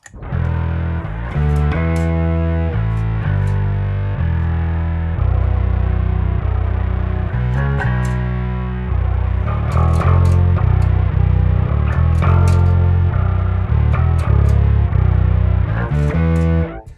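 A guitar pedal pushed into drive produces a thick, organ-like synthetic tone, sustained chords ringing continuously with dense distorted harmonics and a chorus shimmer, played alone without any voices.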